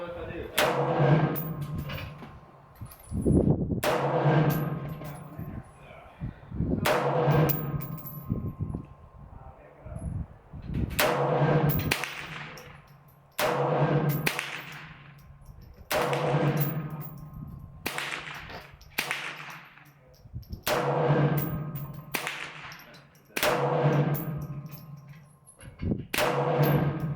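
Repeated sharp gunshots at an outdoor range while testing a Monstrum Tactical Ghost red dot sight and magnifier, roughly a dozen loud cracks spaced a couple of seconds apart, each with a short decaying echo.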